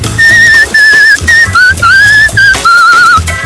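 A man whistles a tune on a talent show stage in Donetsk: loud, clear, sustained pitched phrases with brief breaks between them and slight wavering notes.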